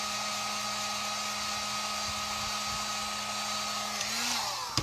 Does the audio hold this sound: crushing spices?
no